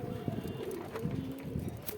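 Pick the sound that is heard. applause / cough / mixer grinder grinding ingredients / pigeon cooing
pigeon cooing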